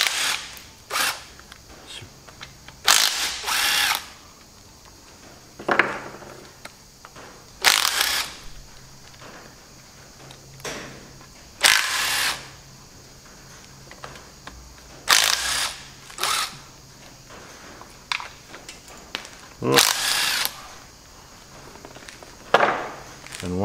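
Bolts being undone to take the side cover off a Chamberlain tractor's front gearbox, heard as sharp metallic clanks and knocks in separate bursts spread across a quiet workshop, close and with no speech.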